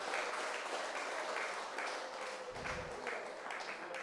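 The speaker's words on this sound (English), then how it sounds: "Please give a round of applause for Mr. White as he walks in." Audience at a National Party town hall meeting in Sauteurs, St. Patrick, applauding a panelist as he walks in, steady, faint and distant clapping.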